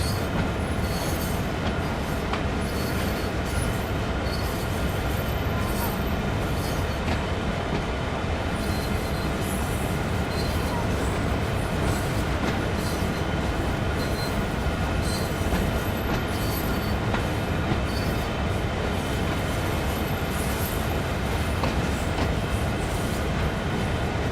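A CSX freight train in Train Sim World 6, running from Framingham to Everett via Boston, rumbles continuously and loudly, wheels clacking and squealing faintly along the rails, a dense unbroken roar with no talking.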